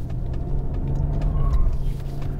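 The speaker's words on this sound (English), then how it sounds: "when you're in manual mode, it revs into the limiter" Maserati Quattroporte S Q4 Gran Sport engine pulling under acceleration, a steady low drone with the pitch rising slightly, heard from inside the car.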